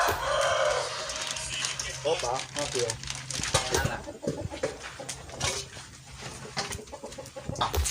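Chickens cluck and a rooster crows nearby in an outdoor yard, their calls breaking through repeatedly as people chat close by.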